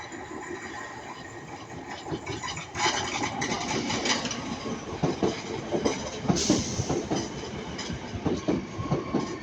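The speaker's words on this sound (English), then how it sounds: "We got 323 going to Manchester Piccadilly." A Class 323 electric multiple unit passes at Ardwick, starting as a rising rumble and then swelling into loud, rhythmic clickety-clack of wheels over rail joints with a brief squeal, alone with no talk.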